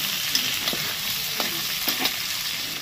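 Onion and capsicum sizzle lightly in a pan under a steady hiss, with a few clear scraping stirs from a spatula close by.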